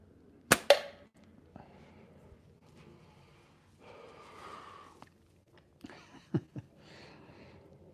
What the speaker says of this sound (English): When I shoot steel, it drops down to about 225 is where I like it for target shooting.